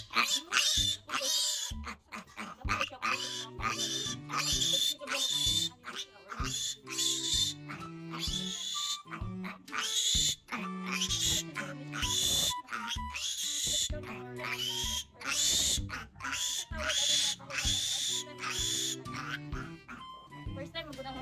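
Piglets on a farm squeal and grunt in rapid bursts, loud and close, with a person talking in between the animal calls.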